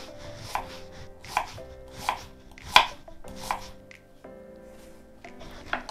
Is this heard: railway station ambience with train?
no